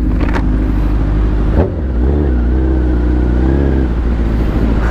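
A Honda CBR1000RR sports bike engine revs steadily in traffic, a loud continuous drone with a brief dip before it builds and holds again.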